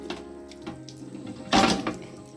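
A tap at a village school in Chiplun, Ratnagiri, dribbles quietly, then water gushes out in a short, loud burst near the end, with no one speaking.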